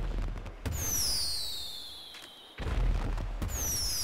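Firework launcher shots in GTA 5 at a July 4th show: two separate launches, each a sharp bang followed by a high whistling streak that fades, loud and close with no talk.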